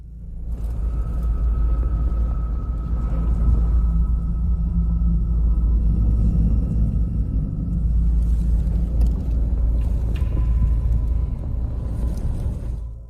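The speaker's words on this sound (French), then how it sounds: "une tempête de poussière se déchaîne autour d'eux" A dust storm rages around vehicles on a Delhi highway, a continuous loud, deep rumble of wind and traffic that swells and eases slightly without any talk.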